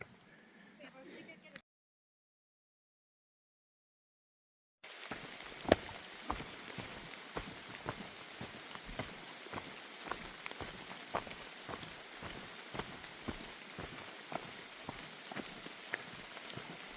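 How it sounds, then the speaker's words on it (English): Warm light rain sprinkling down on the Appalachian Trail in North Carolina, a steady patter of close, crisp drops on a surface after a brief silent gap, with voices talking at the start. "At least it's a warm rain."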